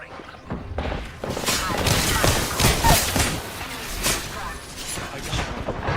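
Rapid gunfire and impacts from a squad firefight in the battle-royale shooter Apex Legends fill the stretch with dense, continuous bursts of shots and thuds, mixed with game effects and a voice talking over the action.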